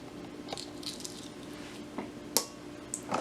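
Soft, wet squishing and faint crackles come from a spoon peeling the shell off a boiled egg, several small scattered clicks and rubs heard close and quiet with no talking.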